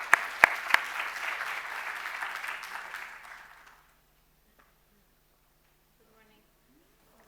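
Audience applause welcoming a speaker at a data science for disaster planning conference talk, a few sharp claps leading into steady clapping that fades away after about three and a half seconds, followed by near silence with faint rustles.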